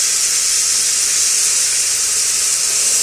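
Ginger garlic paste sizzling in a hot pan for tomato rice biryani, a steady loud hiss that holds without a break and has no talk over it.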